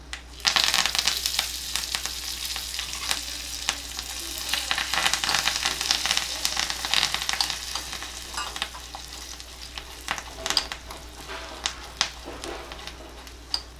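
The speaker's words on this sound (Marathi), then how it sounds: "चुरचुरीत फोडणी आता आपण या भातावर घालणार आहोत" Hot oil tempering with curry leaves and broken dried red chillies, a loud crackling sizzle up close with stirring clatter and sharp pops throughout, no voices.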